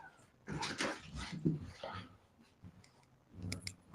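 A dog whimpers and yips close by in a run of short, whiny bursts, going quiet for a moment before a few more cries at the end.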